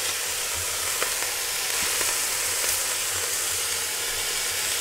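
Beef cheek pieces searing in a hot pan, a loud continuous sizzle and crackle of frying meat, steady throughout with faint scrapes.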